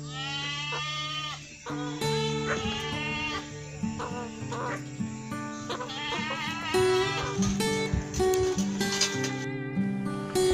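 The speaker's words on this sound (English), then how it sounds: "This is goat." A goat bleats repeatedly, its wavering calls rising above a continuous layer of background music.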